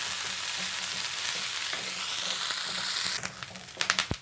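Garlic cloves and curry leaves sauté in hot oil for a tomato chutney, a steady close sizzle with soft stirring, turning into sharper crackles and pops near the end.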